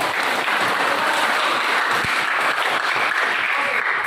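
A classroom of students applauding, a dense, steady burst of clapping close by that carries on without a break for several seconds.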